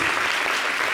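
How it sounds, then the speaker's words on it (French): Studio audience applause for a guest on a television show, a short, dense burst of clapping filling about a second with no pause. "On applaudit KB,"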